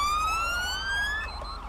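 An ambulance siren in a Grand Theft Auto game wails with a rising tone, then shifts into a fast yelp, loud and close with faint engine rumble underneath and no talk.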